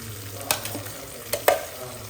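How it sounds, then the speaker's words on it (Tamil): Marinated chicken fries with masala in hot oil for biryani, a steady close sizzle with a few sharp clinks of a spoon stirring the pan. "இந்த டைமில் நம்ம மேரினேஷன் பண்ணி வச்சிருந்த சிக்கனை வந்து சேர்த்துக்கலாம்."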